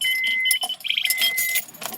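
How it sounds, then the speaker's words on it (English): A 2002 Honda Insight hybrid with a CVT transmission powering on, giving a close run of electronic chimes and beeps with a brief rattling clatter in the middle, all over a quiet background. "Turn the car on and I will show you what's going on."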